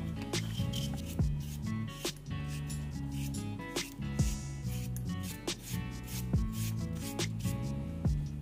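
A knife slices vegetables for a tortilla paisana into pieces neither too thin nor too thick, giving steady, distinct chops against a board about once a second, close and fairly quiet.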